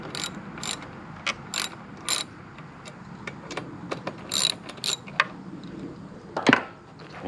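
Ratchet working 13mm bolts loose on a Royal Enfield motorcycle, a close series of quick clicking bursts with irregular pauses between strokes, no speech.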